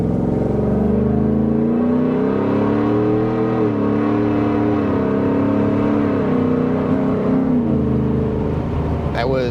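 A 2024 Ford F150 with a Stage 2 Whipple-supercharged 5.0L V8 accelerates at quarter throttle, its engine note rising and sustained loud and close through the cab, with supercharger whine over the drone.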